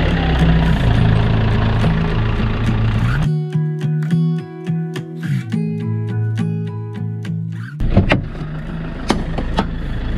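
A camper van engine rumbles close while pulling away on a road trip in Turkey. The low drone cuts out midway to leave a sparse, tonal stretch, then the broad engine noise returns with a few sharp knocks.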